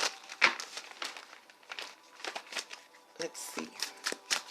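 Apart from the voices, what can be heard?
tarot cards being shuffled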